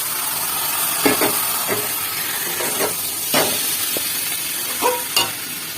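Meat frying in a pan with spices gives a continuous hiss and sizzle, broken by scattered scrapes and knocks of stirring against the pan.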